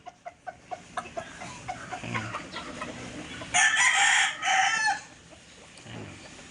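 Roosters crow at a chicken farm, several loud calls overlapping mid-clip after a run of sharp rhythmic clucks and scratching, with other fowl clucking in the background.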